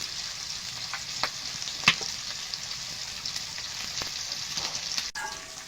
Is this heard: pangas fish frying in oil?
yes